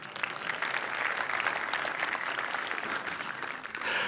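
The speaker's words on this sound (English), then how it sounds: "I've never got a round of applause in the middle of a slide before." An audience at a conference talk breaks into applause, a steady wash of clapping that holds for several seconds at moderate level with no voices over it.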